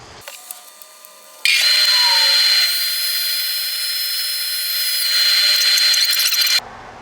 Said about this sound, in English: Yeah, I'm power sanding with this one.